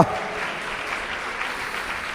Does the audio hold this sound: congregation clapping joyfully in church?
yes